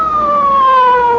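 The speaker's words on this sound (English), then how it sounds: "Police car." A police car siren sounds loud and close as a radio drama effect, one smooth descending wail lasting about a second, with no voices over it.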